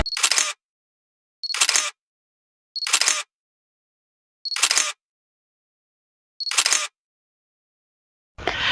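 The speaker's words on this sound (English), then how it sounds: "I'm gonna take some pictures here" A single-lens reflex camera fires five evenly spaced shutter clicks, each a crisp, close mechanical snap about 1.3 seconds apart, with no talk.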